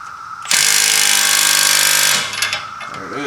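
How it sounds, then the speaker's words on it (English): Impact wrench hammering hard on a tie rod socket during front sway bar end link replacement on a 2010 Lincoln MKT, one loud continuous burst of rapid blows lasting under two seconds, then quieter clanks and shop noise. "I'm just gonna hit it with the impact and let it hammer for a second"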